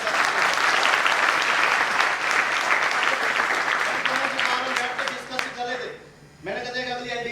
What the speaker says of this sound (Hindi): तालियां भाई कमल भाई के लिए।